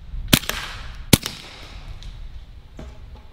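Shots from a Bintac T9 9mm carbine fired into a 2x4 board outdoors, two sharp, loud cracks about a second apart, each followed by a short echo, then a fainter pop.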